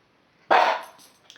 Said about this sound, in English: See this guy, he's just sitting over there staring at me and barking.